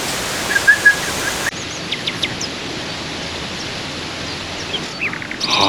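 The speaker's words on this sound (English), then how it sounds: "It feels calm and you can hear the breeze a bit, some birds." Scattered bird chirps ring out over a soft, steady wash of breezy outdoor noise in the jungle near Tulum, Mexico, with a few sharper calls toward the end.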